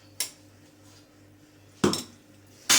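A teaspoon scooping green gram powder, three distinct metallic clinks against a container, close and fairly crisp, spaced unevenly over quiet background with no talking.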